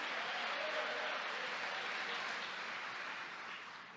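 Sustained crowd applause in a church service, a dense wash of clapping that stays steady and fills the space, easing off slightly near the end.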